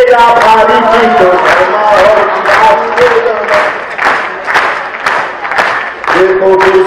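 Hindi poetry-recital audience applauds loudly and steadily throughout, with clapping mixed with crowd voices and a poet talking over it.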